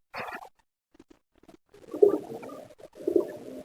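Breeding pigeons coo in a few soft, low phrases close by, separated by quiet gaps and faint rustling.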